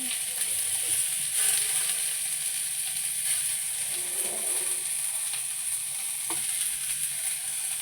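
Onion frying in hot oil in a home kitchen, a steady, bright sizzle that hisses evenly throughout with occasional faint stirring clinks, close and continuous.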